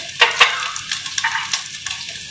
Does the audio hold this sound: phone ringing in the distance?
no